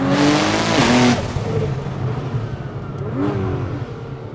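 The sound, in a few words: tuned sports car accelerating, turbo wastegate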